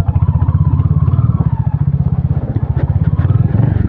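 A Royal Enfield Hunter 350 motorcycle rolls in through an open gate, its single-cylinder engine thumping steadily and close at low speed, with a continuous loud putter and faint clatter.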